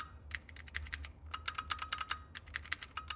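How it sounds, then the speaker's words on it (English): Buttons on a $20 mini-arcade kit are pressed in quick irregular bursts, a close series of soft plastic clicks and taps with short pauses between groups. "these buttons, I really like the feel of them. They're not as clicky as the ones that come with the actual iCade unit"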